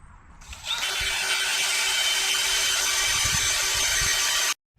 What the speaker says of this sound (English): so I'll be drilling down on these